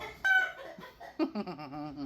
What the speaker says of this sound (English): Me and my chickens, hold on. My roosters.